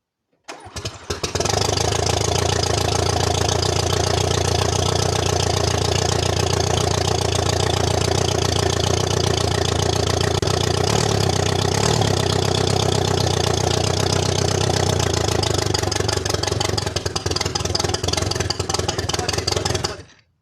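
A 1983 Renault 4 F6 engine cranks and catches, then settles into a loud, steady idle with a slight mechanical clatter that continues close up for about twenty seconds.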